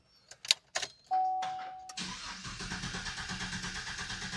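A 2017 Chevrolet Silverado pickup engine cranks briefly and catches, then settles into a steady, close running idle with a rhythmic pulsing beat after a few clicks and a whine at the start.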